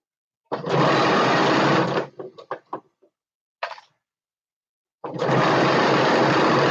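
A sewing machine runs in two fast, steady bursts while top stitching, separated by a pause filled with a few clicks and handling noises.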